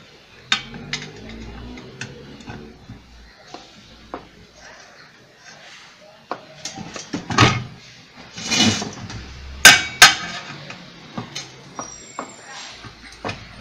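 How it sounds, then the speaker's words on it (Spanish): Hammer blows strike an orange juicer while it is taken apart, scattered sharp knocks and clanks at irregular intervals, growing louder and denser in the second half, with some handling noise between hits. "Y ahora sí que vengan los martillazos."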